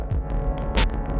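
Neutral Labs Elmyra 2 synthesizer playing a ratcheting step: a loud, steady low throbbing drone with rapid repeated pulses and a brighter burst partway through, no voices.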